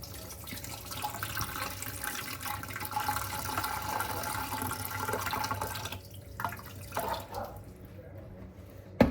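Water poured from a kettle into a cooking pot holding gammon, a steady close splashing stream that tapers off toward the end, with a few drips and clinks, and no talking.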